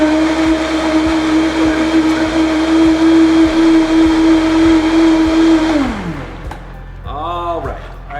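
A countertop blender whirs loudly and steadily, blending kale, beets, ginger and orange juice into a smoothie, then winds down after about six seconds, leaving quieter handling sounds.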